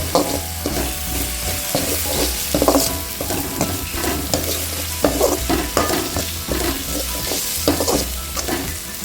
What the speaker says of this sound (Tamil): இஞ்சி பூண்டு சேர்த்துக்கலாம் இஞ்சி பூண்டு கொஞ்சம் பச்சை வாசனமாக வதங்கிட்டு